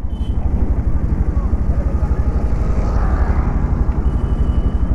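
A 2025 Bajaj Pulsar 150 Twin Disc motorcycle engine runs close by with a loud, steady, rapid low thumping exhaust pulse throughout.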